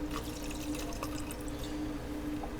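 Whiskey, 1.5 ounces, poured for a peach schnapps and amaretto cocktail, a soft continuous trickle of liquid running steadily for a couple of seconds with faint drip sounds, close and quiet, no voices.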